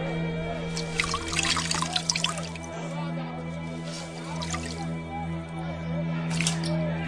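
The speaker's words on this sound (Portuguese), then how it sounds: "Lavou as mãos diante da multidão" Water splashes and drips as hands are washed in a basin, with bursts of sloshing over a steady low hum, set in a dramatized Passion of Christ scene before a crowd.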